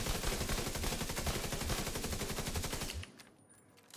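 Sustained automatic rifle fire in a video game, a fast, evenly spaced stream of close, punchy shots for about three seconds that cuts off abruptly into near silence.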